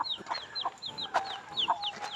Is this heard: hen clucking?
yes